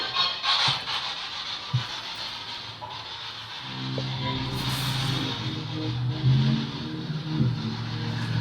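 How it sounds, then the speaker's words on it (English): A truck passes outside the Verona, Mississippi town hall, its engine rising from a quiet rumble into a louder, throaty mid-pitched drone that lingers, with a few scattered knocks and scrapes nearby. "Interfering noise of truck."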